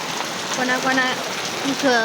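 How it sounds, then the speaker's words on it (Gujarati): Steady hiss of heavy rain falling on surfaces in Idar village, with a voice talking faintly underneath. "ગામમાં વરસાદ પડે છે."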